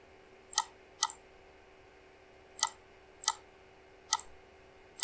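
Computer mouse clicks while working in Revit software, six sharp quiet clicks spread irregularly, some in quick doubles, over a faint steady hum with no talk.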